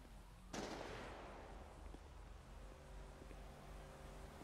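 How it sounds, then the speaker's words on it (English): A single faint gunshot in GTA V during a police roleplay patrol, a sudden bang with a long, fading tail over a low, quiet background hum. "you guys copy that last gunshot?"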